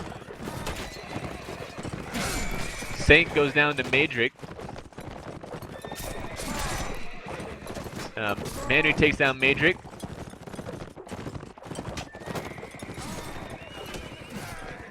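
Horses whinny loudly twice and hooves clatter through a mounted video game battle in the KoA vs DoF league match, with clanks and shots mixed in under a steady stream of commentary.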